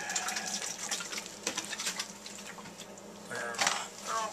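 Water is poured to soak grower's mix around freshly bench-grafted apple trees, a steady, moderately faint splashing gush that swells toward the end.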